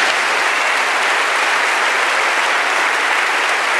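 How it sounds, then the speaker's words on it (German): Audience at a live comedy show in 2022 applauding steadily, a dense, loud wash of clapping that fills the whole stretch without any talk. "Mit dem und den besten Wünschen und einem grossen Applaus nochmal. Der Roger Schawinski."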